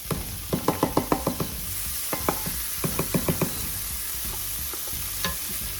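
Gnocchi, chicken and feta are stirred in a hot pan over a soft sizzle, with bursts of quick scraping spatula strokes arriving in short rhythmic runs, then fading to a lone scrape.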